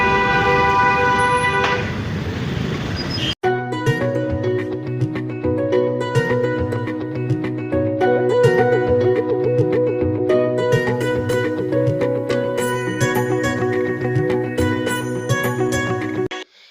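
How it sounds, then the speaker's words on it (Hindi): Dense road traffic just past the Chandrabhaga bridge on the way to Haridwar, India, with car horns honking almost without pause over a steady engine rumble. The horns are loud and overlapping, in short blasts and longer toots. "एकदम से देखिए ट्रैफिक।"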